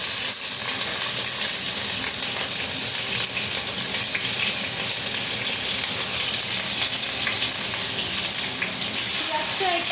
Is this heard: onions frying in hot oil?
yes